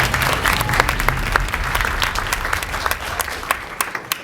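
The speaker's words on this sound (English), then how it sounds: "So a round of applause for Knightscope." A crowd applauding at a startup pitch event for Knightscope, loud sustained clapping with individual claps standing out as it tapers slightly near the end.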